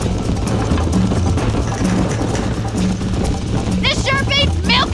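A horse gallops hard across open ground in the Red Dead Redemption western video game, with steady rhythmic hoofbeats under a continuous low rumble and brief voices calling out near the end.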